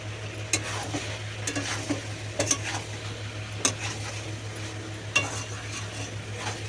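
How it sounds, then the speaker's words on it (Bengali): Young jackfruit and meat sautéed in a kadai, with a soft sizzle under a low steady hum and sharp, intermittent clinks and scrapes of a spatula against the pan, close and without speech. "এবার আমি এটা এঁচোড়টা দিয়ে দেবো এই দেখো এঁচোড়টা দিয়েও কিন্তু আমি করছি এঁচোড়টা দিয়ে দিলাম এবার আমি সুন্দর করে কষে নেব"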